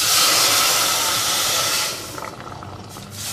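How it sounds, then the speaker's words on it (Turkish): Cold water hits hot tomato paste sauce in a pot on a lowered stove, giving a loud, steady steam hiss that fades slightly after a couple of seconds and leaves a softer bubbling sizzle. "Bir su bardağı soğuk suyu bu salçalı sosumuza dökelim."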